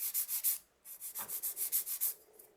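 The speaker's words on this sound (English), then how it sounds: "Let's get that 150 grit on there and also on this side" A 150 grit file rubs quickly back and forth over a sculpted acrylic almond nail, making about a dozen rhythmic, close scratchy strokes with a short pause partway through.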